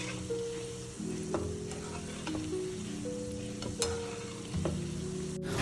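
Methi muthiya fry slowly in oil in a kadhai over a low flame, a continuous close bubbling sizzle with small crackles running evenly throughout.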